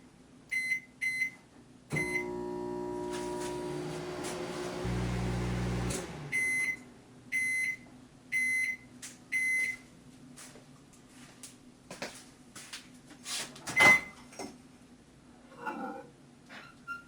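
Microwave oven on its high setting heating a low-carb mug bread, starting with keypad beeps, then a steady humming run of several seconds, followed by repeated clicks and beeping tones.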